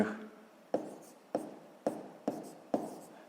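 Handwriting numbers on paper: five crisp pen or pencil strokes in a steady rhythm, each a short scratch that fades quickly, close and quiet with a faint breathy noise at the start.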